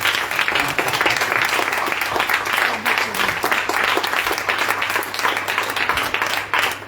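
Sustained applause from a church congregation at a Sunday prayer service in Nagpur, dense and steady clapping filling the room at close range for the whole stretch.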